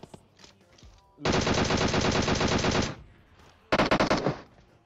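Loud bursts of rapid automatic gunfire from an M416 rifle in the video game PUBG, a sustained spray followed after a pause by a shorter volley of sharp shots, with faint quieter sounds between.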